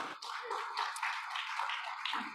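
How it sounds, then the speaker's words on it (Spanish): A church congregation applauds after a hymn during a morning service, a brief burst of steady clapping filling the room at moderate volume. "Le damos un aplauso a nuestro Señor."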